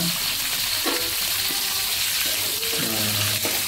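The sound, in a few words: stirring duck curry with bay leaves and cinnamon in a pan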